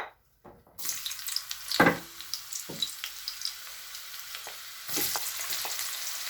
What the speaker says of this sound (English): We'll let that fry for a few minutes.